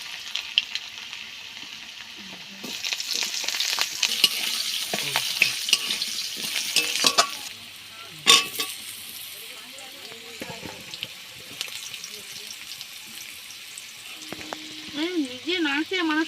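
Potatoes fry in hot oil with cumin and dried chillies in a pan, a close crackling sizzle with clattering stirs and scrapes, fading toward the end as a faint voice appears.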